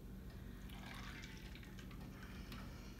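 Tomato juice poured from a container into a Bloody Mary glass already holding Clamato, a steady close liquid pour and fill lasting about three seconds with no talk.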